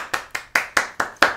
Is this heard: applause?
yes